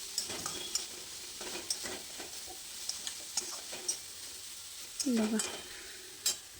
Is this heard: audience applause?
no